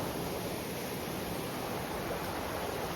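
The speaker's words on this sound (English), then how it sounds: "Waterfall down there." A waterfall in a New Zealand gorge sends out a steady, even rush of falling water. The broadband roar stays constant throughout with nothing else heard.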